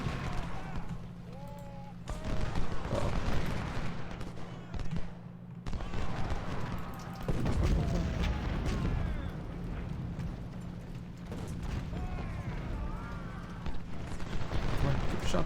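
Musket and artillery fire in an Ultimate General: Civil War battle at Newport News during a Union assault, rumbling volleys and booms rolling continuously, with someone talking over the din.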